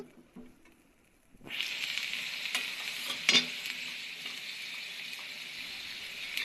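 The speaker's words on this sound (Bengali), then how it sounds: "সাথে নিয়েছি চিংড়ি মাছ পেঁয়াজ আর কাঁচামরিচ ভেজে নিচ্ছি" Shrimp, onion and green chillies hit a hot pan and burst into a loud, steady sizzle after a quiet start, with a brief stir-clatter partway through, close up.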